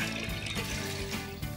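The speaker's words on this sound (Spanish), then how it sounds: "Ahora vamos a llenar esto de agua." Water poured from a tap or jug into tall martini glasses for a table centerpiece, a continuous close trickle and splash of filling liquid with no talking.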